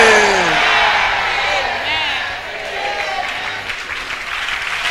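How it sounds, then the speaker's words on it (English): A church congregation at an apostolic ministry service claps loudly together, with scattered whoops and voices mixed into the sustained applause that slowly tapers. "Clap for Jesus."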